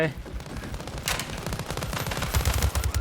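Rapid bursts of Beryl 762 rifle fire in the shooter game World War 3, fast regular automatic shots crackling close and loud, with a voice talking over part of the gunfire.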